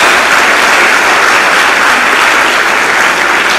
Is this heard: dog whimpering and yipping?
no